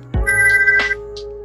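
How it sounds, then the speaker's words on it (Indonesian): Funny WhatsApp notification ringtone made from TikTok audio: a sudden thump followed by bright electronic tones and chirpy blips, close and loud, with no talk over it. "Cara membuat nada dering WhatsApp menggunakan audio dari video TikTok seperti ini."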